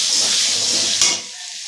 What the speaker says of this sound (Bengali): দিয়ে এটাকে ভালো করে নাড়বো,